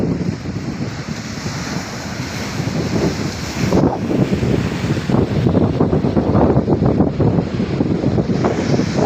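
Sea waves wash in continuously against the rocky shore where people fish, a steady roaring surf with a gusty wind rumble that swells louder partway through, close and without talking.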